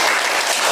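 Applause from a classroom of students for a group that has just finished presenting, a dense, steady burst of many hands clapping close by, brief and fairly loud.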